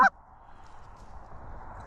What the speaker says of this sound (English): This is your honk right here, White.